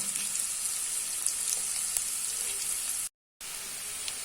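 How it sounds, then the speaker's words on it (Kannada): Onions frying in a pan for a chicken sukka, a steady, dense sizzle that holds close and loud throughout, broken by one brief dropout of silence near the end before the crackle resumes. "ಮೂಲು ಈರುಳ್ಳಿ ಫ್ರೈ ಆತ"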